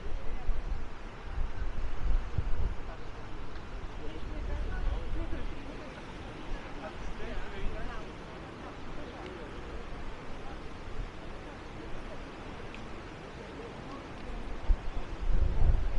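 Strong gusting wind on the beach at Maspalomas, Gran Canaria, buffeting the microphone with heavy low rumbles that swell and ease, with someone talking over it throughout.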